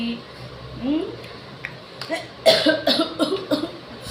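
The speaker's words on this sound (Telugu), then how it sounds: "దగ్గులు అన్నీ వస్తూ ఉంటాయి" A few short coughs in a burst after a quiet stretch, close and fairly loud, with faint murmuring before them.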